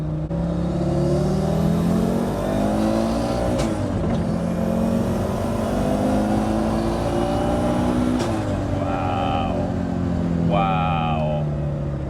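A nitrous-powered 580 BHP Audi RS2 pulls hard under acceleration, its engine note rising steadily and loud with a brief shift dip midway, and voices talk over the roar near the end.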